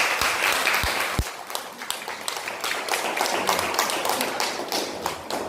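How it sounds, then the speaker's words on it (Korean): A church congregation breaks into sustained, lively applause, with dense overlapping claps from many people filling the room and a couple of sharp thumps near the start. "우리 서로 간에 격려 응원 박수 한번 쳐줄까요?"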